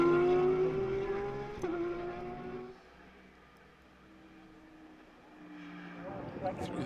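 A GT race car on its final lap at Road America, its engine note loud and sustained, then fading away before swelling again as more cars approach. A commentator talks over it.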